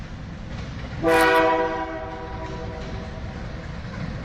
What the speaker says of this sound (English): I believe I hear the train coming